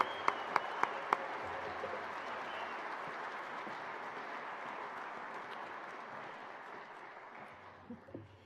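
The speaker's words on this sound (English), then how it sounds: "Please give a big round of applause to all the staff at Dixie State University." An audience at a university address applauds the staff of Dixie State University, a few sharp individual claps leading into sustained, fairly distant clapping that slowly fades out near the end.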